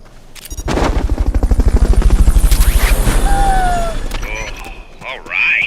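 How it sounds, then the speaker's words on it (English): Helicopter rotor from Metal Gear Solid: Peace Walker during a Fulton recovery, a loud rapid chopping that swells quickly and holds steady before fading out, with game effects and a voice near the end. "Fulton recovery helicopter is complete."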